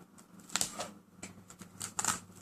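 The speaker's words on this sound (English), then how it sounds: "Grab the duct tape and just cover it up" Duct tape gets handled and pressed down to cover a spot, two short rustling, crinkling bursts about a second and a half apart over a quiet background.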